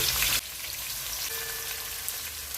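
Two large onions frying in oil for daal mash, a steady soft sizzle and crackle after a louder burst at the start, with no talking.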